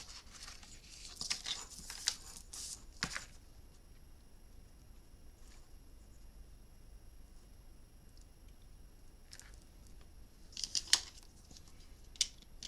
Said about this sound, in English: then we're going to cut it